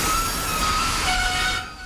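A train rolls by with a loud, steady rumble and drawn-out squealing tones from the wheels, then fades off quickly at the end.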